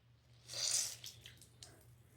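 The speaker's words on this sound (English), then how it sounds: "Bring out the excess water." A wet makeup sponge is squeezed close by, giving one soft, brief squish of expelled water followed by a few faint drips and squelches in a quiet room.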